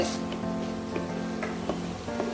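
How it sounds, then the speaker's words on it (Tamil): Black pepper and cumin seeds sizzle in hot oil while tempering for semolina pongal, a steady close frying hiss with a few faint pops and stirring clicks. "சீரகம், போட்டு அதை நல்லா பொரிய விடலாம்."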